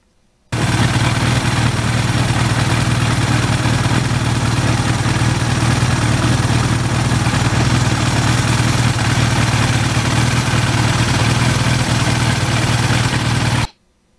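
A Suzuki GS1100E motorcycle engine runs on a test ride, a steady, loud low drone that holds without a break for about thirteen seconds and then cuts off abruptly.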